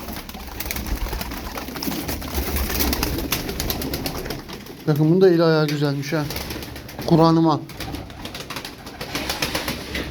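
Arab tumbler pigeons coo close by, two distinct rolling coos in the middle, with someone talking before and after them.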